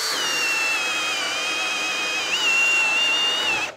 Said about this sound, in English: I'm in speed two and I am on drill.